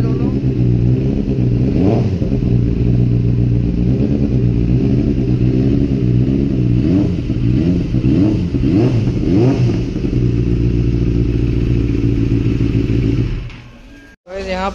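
Close, loud engine of a Benelli motorcycle with twin exhausts, revving repeatedly in uneven bursts over a steady idle before cutting out abruptly near the end.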